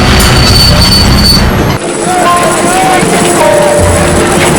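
A tram rolls along its rails with a steady, loud rumble, and high metallic wheel squeals rise and fade over it throughout.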